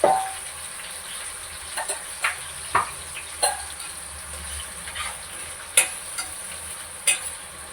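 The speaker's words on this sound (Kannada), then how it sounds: "ಈರುಳ್ಳಿ ಸ್ವಲ್ಪ ಕಂದು ಬಣ್ಣ ಕೊಡಲಿ." Chopped onions fry with a steady sizzle in a pan for chicken gravy, broken by several sharp scraping stirs of a spoon spaced a second or two apart, close up with no talking.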